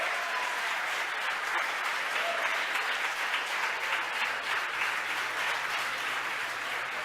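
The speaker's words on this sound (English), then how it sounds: "the folks who watched the mission cheering" Spectators who watched a SpaceX Falcon Heavy launch applaud and cheer in a steady, dense wash of clapping, even and unbroken, heard alone without speech.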